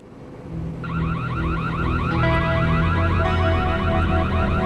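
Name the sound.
burglar alarm ringing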